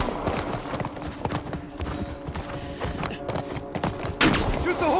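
Horse galloping in the video game The Last of Us Part 1, hoofbeats thudding steadily beneath a loud, busy mix of game action and shouting voices.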